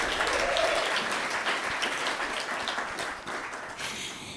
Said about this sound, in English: Let's have another round of applause for B.